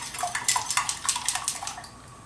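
A whisk beats ingredients for potato latkes in a bowl, a quick, even series of close clinking, tapping strokes that stops after about two seconds.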